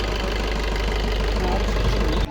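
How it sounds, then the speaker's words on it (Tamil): Maruti Baleno engine running right after a thermostat assembly replacement, a loud, close, steady idle with a rough knocking pulse, cut off abruptly near the end. "இப்போ வண்டியை ஸ்டார்ட் பண்ணி பார்க்க போகிறோம்."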